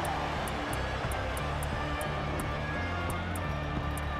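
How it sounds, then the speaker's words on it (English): A car engine in the Forza Motorsport 7 racing game holds a loud, continuous droning roar with a steady low rumble and no pauses or speech. "Let's see what the engine can do."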